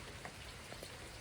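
Rain falling on a farm, a steady soft patter with a few distinct drops, low and fairly faint throughout, with no voices.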